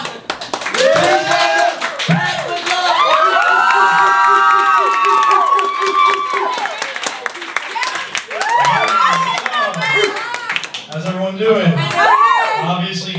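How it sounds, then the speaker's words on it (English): Loud audience cheering and clapping for a stand-up comedian, with whoops and shouts over steady applause; voices talk and holler over it throughout, rising and falling in bursts. "Give him a huge round of energy, a big round of applause."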